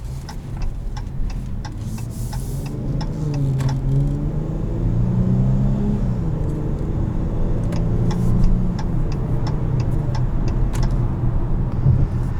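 A 2021 Dodge Challenger SXT Plus AWD with its V6 pulls hard around a track lap, a steady close engine drone rising and falling in pitch as it accelerates and shifts, with small clicks and ticks from the cabin and no talking.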